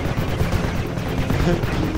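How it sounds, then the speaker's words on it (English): Continuous space battle from the video game Legends of Pegasus: rapid weapon fire and rumbling explosions blend into a loud, unbroken wash of combat noise. "I like the explosions."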